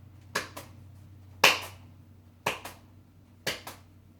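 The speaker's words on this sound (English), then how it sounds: "we're going to clap in the middle sight and then come back down to catch the ball" Sharp single hand claps during a juggling exercise, five crisp claps spaced roughly a second apart, some followed by a quieter soft tap, close and isolated with no talking.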